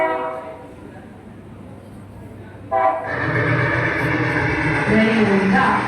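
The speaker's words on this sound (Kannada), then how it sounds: "ರೈಲು ಈಗ 60ರಿಂದ 70ರ ದಶಕದ ನಿಲ್ದಾಣದಿಂದ ಹೊರಡಲಿದೆ." A train departs a station, starting with a quieter stretch of tonal background and then breaking into a loud, sustained rumble and rush that carries to the end.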